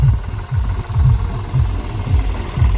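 A tractor engine runs in a field of groundnut crop, a steady low rumble with rhythmic knocking pulses, close and continuous throughout.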